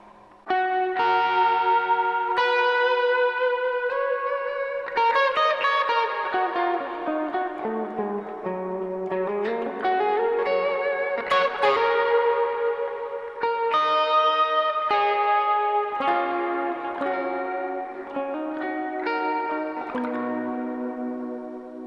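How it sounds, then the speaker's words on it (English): Electric guitar with a Guyker LPBR pickup playing a sustained, shimmering melody soaked in big reverb with a wavering vibrato, loud and continuous throughout. "Bigger reverb and some vibrato."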